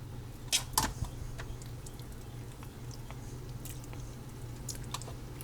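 Close, faint chewing of a canned chicken Spam grinder hoagie sandwich, soft wet bites and squishy mouth sounds scattered over a low steady hum.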